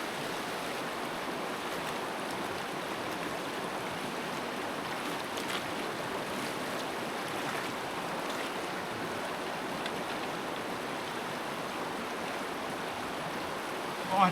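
Cold snowmelt stream in New Zealand's South Island flows with a steady broadband rush of water, fairly faint and continuous, with no clear speech over it.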